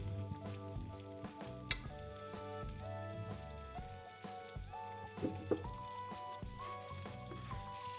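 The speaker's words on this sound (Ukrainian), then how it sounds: "Так піджарюємо хвилинки" Steady sizzling of cheese dumplings frying in butter in a pan, continuous crackle with occasional louder pops, close by, with faint background music.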